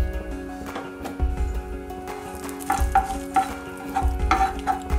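Mustard seeds sizzle in hot sesame oil in a pan, a close frying hiss dotted with sharp crackles and pops that grow busier toward the end, with a low hum underneath and no talking.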